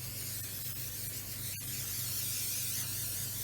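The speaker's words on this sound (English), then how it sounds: "we're going to spray our eggplant with oil" Oil is sprayed onto eggplant slices for Greek moussaka, making a steady, close, soft hiss that runs for about three seconds with no talking.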